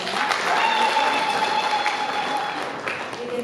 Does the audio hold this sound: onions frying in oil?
no